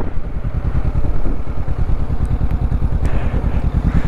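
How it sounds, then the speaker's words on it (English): Honda CBR500 motorcycle engine revving in a steady, loud rhythmic chug as the rider works mud off the wheels, the engine note pulsing close and continuous throughout. "So now I've just got to like slowly tease the bike to get the mud off."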